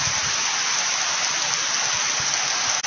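Heavy rain falls steadily near a farm shed housing chickens, with cattle and buffalo kept nearby, making a dense, loud, even hiss with scattered low thuds of drops. The rain continues unbroken until a brief dip at the very end, with no talk.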